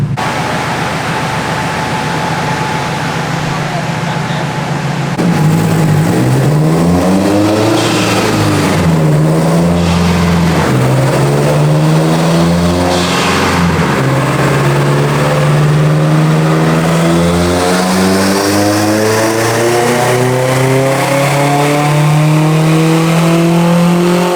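A Subaru STI on a dyno during a tuning session, starting with a steady idle and then ramping through loud, rising engine pulls with climbing revs that fall and build again, close and alone.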